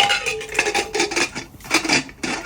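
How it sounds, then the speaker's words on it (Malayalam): Metal scrapes and clanks nearby as a lid is set onto a pressure cooker pot during mutton biryani cooking, with several short rubbing clinks and a brief pause midway. "മൂടി വെച്ച്"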